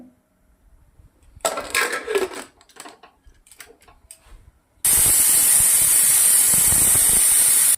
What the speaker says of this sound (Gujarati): હવે આપણે એક સીટી મારી લેશું